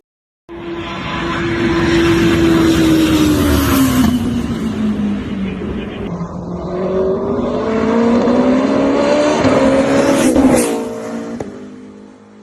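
A Porsche LMDh prototype race car with an engine derived from the 918 Spider, revving loud and high-pitched as it sweeps up and down through the rev range for several seconds, then cuts off sharply.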